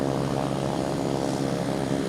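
A Boutique Air propeller plane at Boston Logan Airport gives off a steady, broad engine drone with no break, loud and continuous through the short stretch, with no voices.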